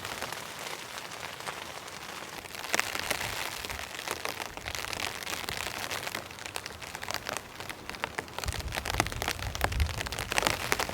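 Rain falls on a campsite during a snow and rain storm, a steady close patter and crackle against a surface, with crinkling bursts and heavier drops toward the end.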